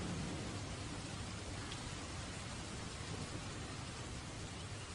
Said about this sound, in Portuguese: A chuva seguia firme, castigando o telhado da casa